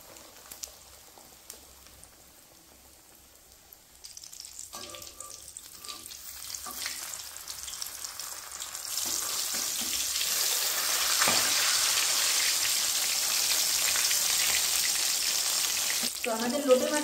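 Bombay duck (lote fish) chops go into hot oil: a quiet start, then the frying sizzle builds into a loud, steady crackle that continues to the end.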